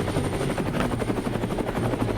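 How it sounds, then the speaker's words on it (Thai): A helicopter thunders close by, its rotor chopping in a steady rapid pulse over a dense, loud engine roar that fills the whole stretch without pause. "เอ้ยยยเฮลิคอปเตอร์"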